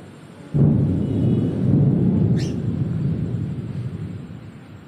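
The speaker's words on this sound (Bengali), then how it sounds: "আকাশ পুরো কালো হয়ে গেছে আর মেঘ ডাকছে, শুনতে পাচ্ছ আশা করি" Thunder rolling under a dark sky ahead of rain: a sudden low rumble swells in and lingers for a few seconds before slowly fading, with a brief bird chirp partway through.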